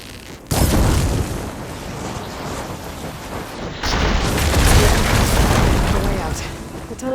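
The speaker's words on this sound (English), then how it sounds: "I should be able to blow this up to clear the debris." An in-game explosion in Horizon Forbidden West blows apart debris blocking a tunnel: a sudden loud blast, then a second heavy rumbling burst a few seconds later, with roaring noise sustained throughout.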